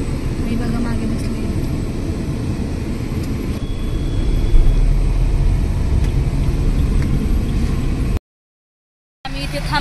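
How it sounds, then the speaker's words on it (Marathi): Steady roadside traffic, with passing cars and engines making a continuous broad rumble that swells and fades, followed by a brief gap of silence before the noise resumes. "तर थोडं ट्रॅफिक लागलेलं आहे"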